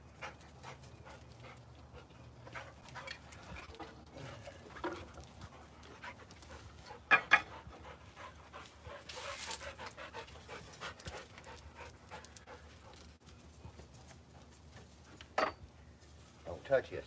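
Several dogs pant steadily nearby through most of the stretch, with a few sharp clinks like dishes or metal knocking in between.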